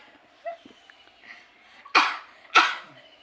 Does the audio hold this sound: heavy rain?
no